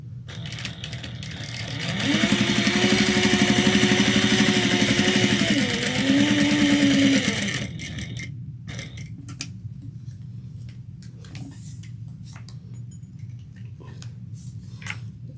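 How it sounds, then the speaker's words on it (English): A sewing machine runs a steady, close whirring stitch along a 1/8-inch seam on a dog collar, holding for several seconds, pausing briefly, then running again before it stops and leaves faint handling clicks. "we're going to sew down 1/8 of an inch"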